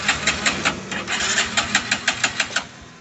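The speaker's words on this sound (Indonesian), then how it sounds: "Kalau langsung di starter nggak hidup ya." A motorcycle fitted with a touch-sensor anti-theft device cranks on its electric starter but fails to start, giving a rapid series of whirring, clicking pulses that stay fairly close and steady.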